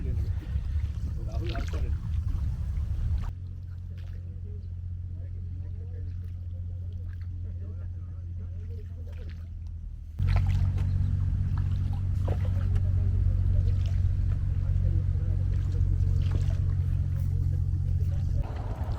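A boat moves along a lake formed from the Ganges, through a fenced channel cleared in floating water weeds. A steady low engine drone runs throughout and grows louder partway through.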